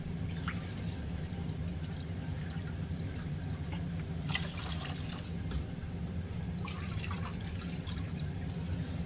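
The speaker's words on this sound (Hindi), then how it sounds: "पानी भी आपने उसी मिकदार में ही डालना है।" Water is poured into a pot of rice for cooking, with a steady liquid rush under a low background hum and two louder splashing bursts midway and near the end.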